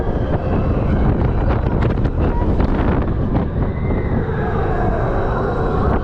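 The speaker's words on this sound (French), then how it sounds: "j'ai trop de vent dans la gueule aussi là" Heavy wind buffets the microphone in continuous rumbling gusts at an amusement park, loud and close, with brief faint voices and exclamations mixed in.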